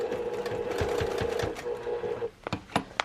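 A sewing machine runs a steady, rapid line of stitches through a vinyl project bag with a humming motor, then stops, followed by several sharp clicks and knocks close by.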